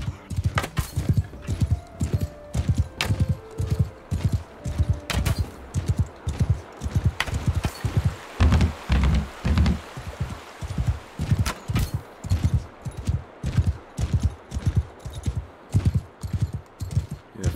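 Horse hooves galloping in the video game Mount & Blade II Bannerlord, a fast, regular run of loud thudding beats repeating steadily throughout, close and continuous with no talking.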